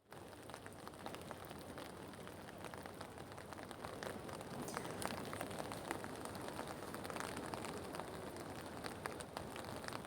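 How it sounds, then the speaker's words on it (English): Steady rain falls and patters on surfaces outdoors, a dense continuous hiss of drops with scattered sharper taps, fairly faint and even throughout with no one talking. "It's really raining right now."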